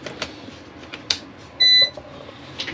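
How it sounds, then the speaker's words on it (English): A kitchen appliance gives a single short electronic beep, steady and clear, standing alone over quiet room noise with faint background sounds. "Beep."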